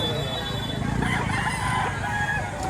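A three-year-old rooster crows at a breeder's farm in Lipa, Batangas, over a busy background of other birds and faint voices.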